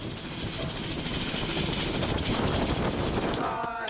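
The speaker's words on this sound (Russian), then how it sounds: "Разгружая вертолет, он не выключает двигатель," A helicopter's engine and rotor run loudly and continuously nearby while it is unloaded in Alaska, a dense whooshing roar that briefly shifts near the end.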